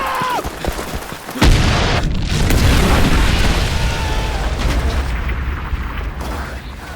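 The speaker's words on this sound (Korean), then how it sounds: "화물차 안에 담긴 큰 무기 폭탄이 폭발하면서" A loud bomb blast in a cargo truck in Ghost Recon Future Soldier erupts after some brief sounds, then a long roaring rumble of debris and fire that fades slowly.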